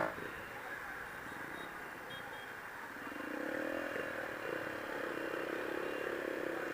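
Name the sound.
motorcycle riding in Vietnam traffic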